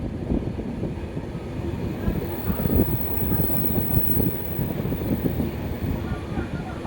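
Wheels of the Uttarbanga Express rumble and rattle loudly through a big curve near New Jalpaiguri, a dense continuous grinding clatter with faint voices underneath.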